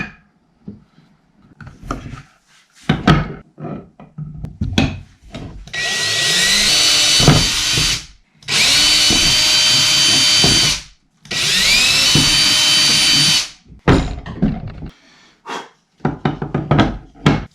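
A power drill bores holes through a plastic bracket on a kayak battery housing in three loud, sustained bursts of whirring, separated by short pauses and scattered close knocks and handling clatter.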